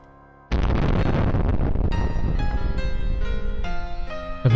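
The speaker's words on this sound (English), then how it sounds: "A bit overly dramatic explosion there, wasn't it?" A loud, abrupt explosion effect in the Higurashi visual novel bursts in after a quiet start, rumbles heavily, then gives way to ringing tonal debris and a final boom.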